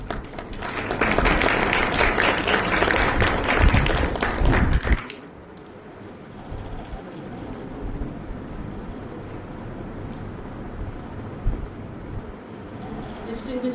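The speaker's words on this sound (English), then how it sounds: "Please give a round of applause." Audience applause for a college principal, Dr. Rohini Jagtap, at a law lecture hall event: a loud, dense burst of many hands clapping for about five seconds, then cutting off to quiet room murmur.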